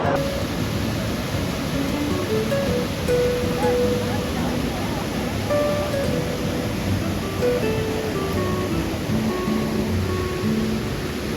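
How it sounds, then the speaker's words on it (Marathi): Napne waterfall in Konkan, near a glass bridge, with water crashing down in a steady, loud broadband roar that runs unbroken through the whole stretch. Faint voices mingle beneath the rushing water. "इकडून आणि इकडून जे पाणी कोसळते"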